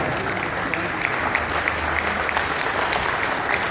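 Sustained applause from an audience at an overseas Pakistanis conference, a dense steady wash of clapping with no talk.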